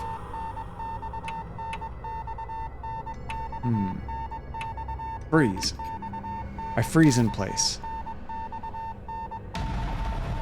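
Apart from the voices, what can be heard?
incessant telegraph-like beeping in the video game Death Mark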